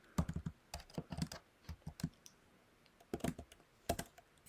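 Close, crisp keystrokes on a computer keyboard while C++ code is entered, in irregular bursts of clicks with short pauses, no voice.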